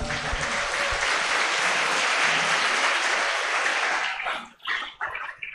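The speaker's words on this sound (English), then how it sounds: "please give applause to us" An audience at a special guest lecture claps in a dense, loud wash of applause that holds steady, then thins into scattered trailing claps before fading near the end.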